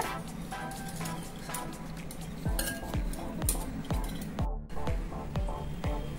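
Oil and cooled boiled milk being mixed in a bowl for an eggless cake batter, a steady run of rhythmic scraping and clinking strokes from a utensil, close and fairly loud with no talk.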